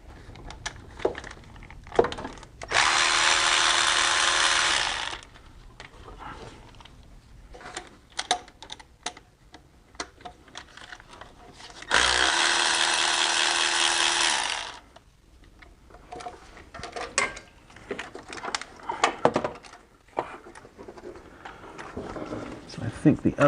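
Bolts being removed from the intake manifold of a Kia Sportage: two sustained ratcheting bursts of a power tool, each lasting about two to three seconds, with clicks and clanks of handling metal parts between them, heard close up.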